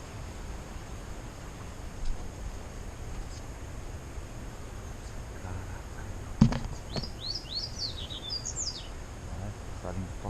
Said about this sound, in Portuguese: Passarinho top cantando aí.